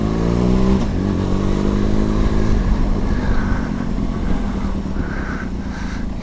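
A Benelli TRK 502X adventure motorcycle rides through wet, windy commuting weather, its engine droning loudly and steadily with a brief rev change, wind rush and road noise filling the background.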